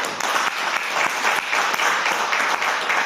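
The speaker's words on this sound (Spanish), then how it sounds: "Denle palmas al Señor, hermano." A church congregation claps together in a steady, dense burst of applause lasting a few seconds, fairly close and with no talking over it.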